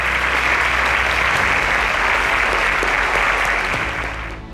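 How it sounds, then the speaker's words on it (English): Steady, dense applause from a studio audience honouring quiz show contestants, holding loud and even throughout before easing slightly at the very end. "A round of applause for all of them."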